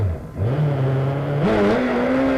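An OMS Suzuki hillclimb race car pulls hard away from the start, its engine note climbing steadily with a brief dip for a gear change and then rising again, loud and close throughout.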